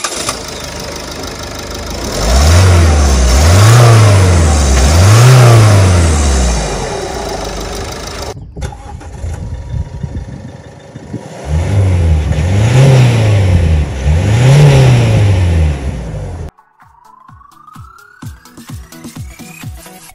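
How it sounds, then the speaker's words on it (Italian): A Toyota Yaris 1.4 D-4D turbo diesel running loud and close, its engine revved up and down in two pairs of rising and falling surges, with a brief quieter idle between them before it settles lower. "Verifichiamo adesso l'accensione e il controllo fumi dagli scarichi."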